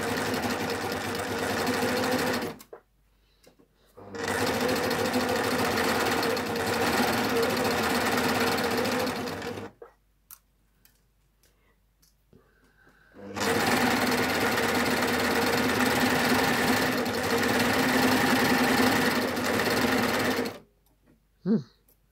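A Baby Lock Ovation serger stitches and trims a fabric edge while attaching beads, running in three long loud steady bursts separated by pauses.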